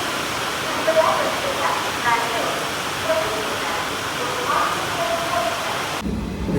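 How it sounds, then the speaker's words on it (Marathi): Heavy monsoon rain pours at a railway station in Rajapur, India, in a constant broadband roar, with faint voices and scattered sounds underneath before it cuts off near the end. "आणि पाऊस पण खूप लागतो"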